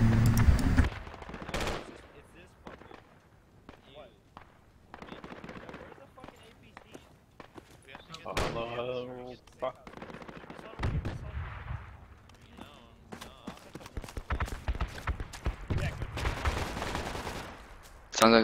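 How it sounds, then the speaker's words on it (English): AK rifle fire in the video game Project Reality comes as loud bursts and scattered distant shots, with players talking over the gunfire throughout. "Sounds like there's AK fire northwest."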